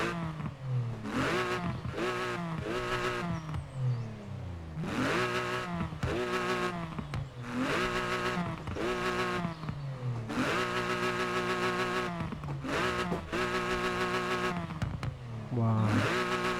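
Car engine in a driving game, revving in repeated bursts with rising and falling pitch as it shifts through gears, loud and steady across the whole stretch, with music or other game sound mixed in.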